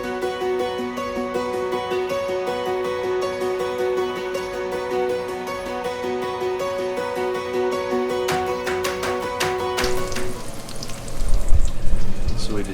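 Cowboy rub bacon fries with a soft, steady sizzle and crackle under a constant hum, turning louder and busier near the end.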